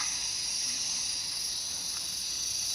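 Cicadas buzz in a continuous high-pitched drone, steady and fairly faint, with no voices.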